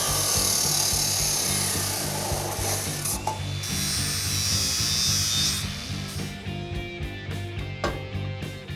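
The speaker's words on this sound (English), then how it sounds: "We're just cutting an angle on the bottom of it to match the angle of our frame." A power tool cuts an angle into the bottom of a steel roll bar main hoop, giving a loud, steady mechanical grinding with a ratcheting hum. It thins out toward the end into scattered clicks and scraping.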